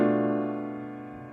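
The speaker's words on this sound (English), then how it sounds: "we don't hear these half diminished leading tone seventh chords very often" A sustained half-diminished leading-tone seventh chord rings out alone, struck once and slowly decaying over a little more than a second, with no talk over it.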